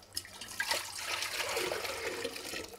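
Water poured out of a lifted plant pot while propagating variegated plants, a steady splashing, trickling pour lasting a few seconds, close by and alone.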